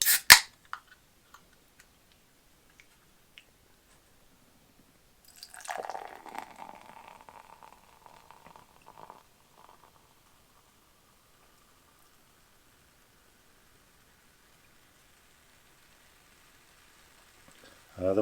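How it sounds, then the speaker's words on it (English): Dr Pepper soda pours into a glass and foams into a big head, a soft crackling fizz for several seconds after a quiet pause, faint and close, with scattered small clicks before and after. "let's pour our little beveragino"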